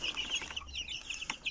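Chicks and hens in a coop chirp and cluck in quick, overlapping high peeps, close by and moderately quiet, with one sharper call near the end and no one speaking.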